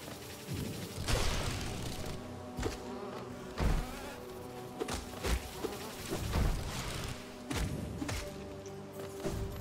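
Giant bees in the video game Hollow Knight drone in a low, continuous buzz while repeated heavy thumps and impacts punch through, with no talk heard.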